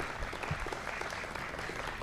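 Brief, modest round of clapping from a small gathering, an even patter of hands with no single clap standing out and no voices over it.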